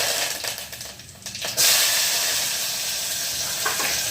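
Mustard seeds go into hot oil: after a quieter start, a sudden loud sizzle bursts up and carries on as a steady, close hiss with faint crackles, and no one speaks.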